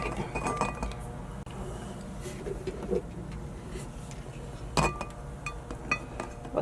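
Dishes and pots clink faintly now and then on a farm where chickens are kept, with scattered light metallic knocks over a low background hum and no speech.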